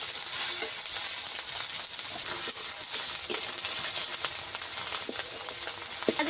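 Onion and chopped tomato fry in a pan with a steady close sizzle and hiss, along with occasional soft stirring clicks and no talking.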